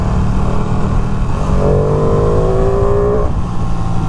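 A 2023 Ducati Panigale V2 sport bike pulls hard under steady throttle, its engine note sweeping upward in pitch over a couple of seconds before easing off, all beneath constant heavy wind rush on a city street.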